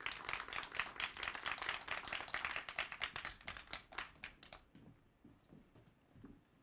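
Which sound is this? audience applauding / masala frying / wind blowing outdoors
audience applauding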